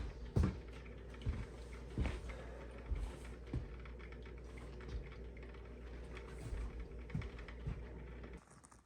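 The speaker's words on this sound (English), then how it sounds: "Microwave." A low, steady electric hum of a running microwave with scattered clicks and clatter nearby, cutting off abruptly just before the end.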